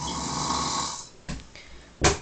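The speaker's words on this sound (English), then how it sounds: "this is the man that doesn't snore." A man snores heavily at night at 1:22 in the morning, close to the mic, with one long rasping breath followed by shorter snorts and a sharp loud snort at the end.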